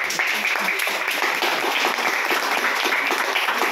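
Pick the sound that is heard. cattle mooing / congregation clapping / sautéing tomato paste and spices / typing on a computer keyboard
congregation clapping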